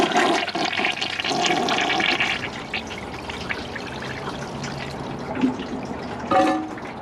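An American Standard Cadet 3 toilet flushing with latex gloves in the bowl, heard as a loud rushing swirl of water close by that fades into gurgling and trickling, followed by a brief gulp near the end.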